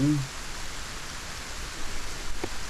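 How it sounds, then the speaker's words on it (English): Rain falls steadily in the video game Solarpunk, a soft, even hiss that holds across the whole stretch, with a brief murmur of voice at the very start. "And it had to rain, didn't it?"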